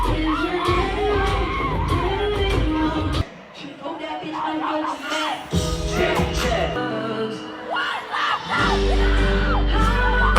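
A concert crowd at a show screams and yells loudly and continuously, with shrill whoops rising over a dense roar; a brief dip midway before the noise surges back.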